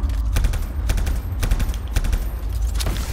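Repeated shots ring out from a weapon in the video game Anthem, a rhythmic volley of sharp bursts over a heavy low rumble, loud and close throughout.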